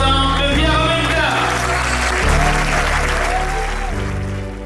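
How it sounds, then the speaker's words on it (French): Loud, sustained applause from an audience at a ski mountaineering race celebration, a dense crowd clapping steadily over music throughout. "Applaudir avec le cœur ces 40 ans de Via Ravenna."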